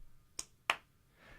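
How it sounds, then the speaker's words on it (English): Two sharp hand claps, close and dry, spaced about a third of a second apart with a quiet room in between. "Two claps."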